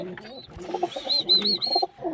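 A wild green pigeon coos near its chicks at the nest, soft repeated tonal calls close by with faint rustling in between.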